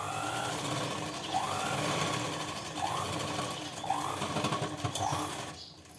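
Sewing machine stitching a blouse seam, a close, steady rapid mechanical chatter with rising whirs as the stitching speeds up in repeated runs, ending abruptly.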